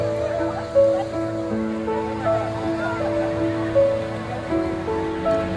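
Sea waves wash onto Puri beach in Odisha on an evening, a continuous surf roar with periodic swells, mixed with nearby chatter and tonal background sounds.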